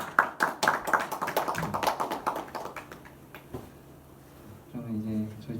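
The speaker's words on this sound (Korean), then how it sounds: "박수 한번." A small church youth-service congregation claps in a brief, uneven burst of hand claps for about three seconds, fairly close, then fades into quiet room tone with a voice near the end.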